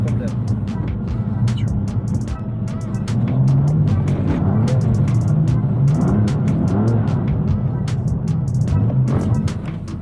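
A BMW M2 Competition accelerating while drifting with the wheels turned, a loud steady engine roar building and holding, heard from inside the car with people talking over it.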